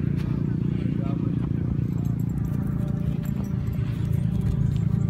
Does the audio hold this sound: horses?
yes